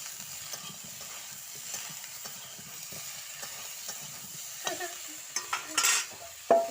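Cauliflower with salt and turmeric is stirred in a frying pan: a quiet, steady sizzle with soft scraping strokes of a utensil, and a few louder clinks and scrapes near the end.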